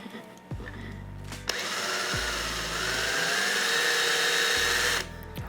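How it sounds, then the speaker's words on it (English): A power drill boring holes into wood, a sharp whining bite lasting several seconds after short motor spin-ups, with a few quieter pauses before and after the main cut. "Both of these are gonna get a hole drill just like the other ones"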